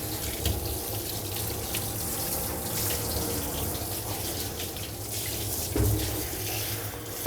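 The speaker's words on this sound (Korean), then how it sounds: "물로 충분히 몸을 적셔줍니다." Running water from a handheld shower sprays steadily at a self-service dog wash in Songpa, Seoul, wetting a dog's coat with a continuous close hiss and splash, no voices.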